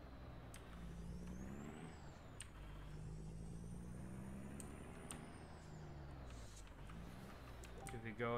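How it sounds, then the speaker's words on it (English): A video game truck engine drones steadily, its pitch rising and falling as it rolls along, with occasional hissing air-brake-like bursts over the continuous rumble. "I'm gonna mute the music so you guys can hear the engine rolling along."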